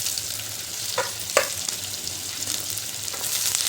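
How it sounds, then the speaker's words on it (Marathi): Thin, vertically sliced bitter gourd frying in hot oil in a kadhai, a bright continuous sizzle with a couple of short sharp crackles near the start. "तेल तापले त्यामध्ये घालायचे कारले पत्तळ कापून घेतले उभं"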